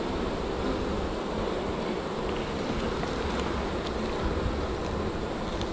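Honey bees buzz steadily around an open hive during a honey harvest, a dense, continuous drone with individual bees passing close now and then, no voices.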